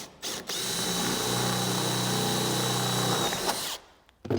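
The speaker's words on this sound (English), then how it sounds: "So I'm now going to drill a hole with a 5mm drill bit" A power drill with a 5mm bit whines steadily for about three seconds while boring a hole, its tone holding even, then stops abruptly with a few small clicks.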